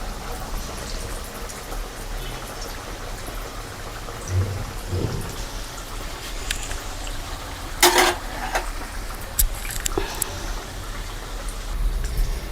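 Samosas deep-frying in hot oil, a soft continuous bubbling hiss with a few louder crackles and clatters partway through.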